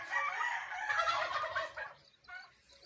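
Turkeys gobble in a loud, dense chorus of overlapping calls up close, then fade to a few scattered gobbles.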